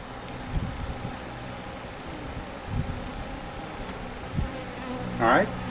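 Honey bees buzz steadily around an open hive being split, a dense close swarm drone with a few louder passes near the microphone.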